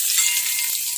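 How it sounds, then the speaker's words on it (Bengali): Bay leaves, cumin seeds, dried red chili, green chili and green cardamom crackle in hot oil as a tempering, a dense, steady sizzle that fills the whole brief moment without any voices. "ফোড়নে দিলাম হলো তেজপাতা, জিরা, শুকনো লঙ্কা, কাঁচা লঙ্কা, আর হলো এই যে ছোটো এলাচ।"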